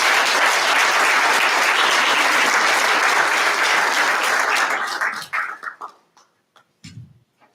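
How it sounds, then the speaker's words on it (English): Full, sustained audience applause for an honoree at a community college Black History Month program, loud and even, then thinning to a few scattered claps and dying away. "Please give her a round of applause."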